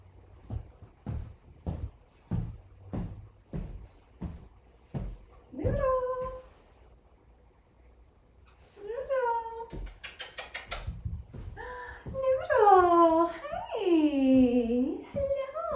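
A cat meows several times up close, with drawn-out, rising and falling cries growing louder toward the end, preceded by a run of evenly spaced soft knocks.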